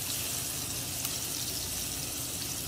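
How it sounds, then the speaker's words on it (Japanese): Sliced root vegetables stir-fry in a pan over medium heat, a continuous even sizzle and crackle held close and steady throughout, with no voices. "まあ中火ぐらいでゆっくりと炒めてください。"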